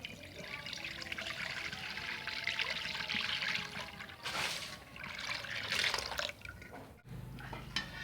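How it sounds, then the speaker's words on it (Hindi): About two litres of milk pours into a kadhai on the stove, a steady liquid trickle and splash running for several seconds with a brief louder burst near the end. "अब हम इसमें ये जो हमने 2 लीटर करीब में दूध लिया है उसे हम डाल देते हैं।"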